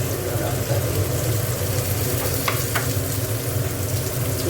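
Turmeric and dried red chilies sizzle in hot oil in a pan, a steady dense frying hiss with a couple of brief clinks from stirring, close and continuous throughout.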